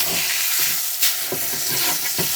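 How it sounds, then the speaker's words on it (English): Beef short rib sears in a hot pan with a loud, steady sizzle and hiss, broken by a few soft scraping and shifting sounds, close up and without talk. "All we're trying to do is sear it, get a nice crust on it."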